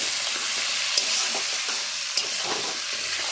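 Spices stirred into cabbage and fish head frying in a pan, a steady close sizzle with soft scraping strokes and two brief clinks of the utensil against the pan.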